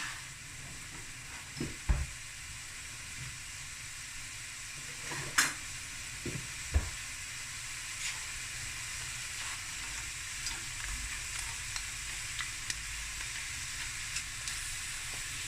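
Ginger frying alongside rice and mussels in a stir-fry pan, a steady hissing sizzle running throughout with scattered spoon clinks and scrapes, moderately quiet with no voices.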